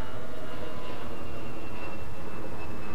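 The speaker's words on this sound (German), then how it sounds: "Ich spiele mal Flugzeug A ab." Binaural dummy-head recording of an aircraft passing overhead, a steady broadband roar, continuous and fairly loud throughout with a faint high whine on top.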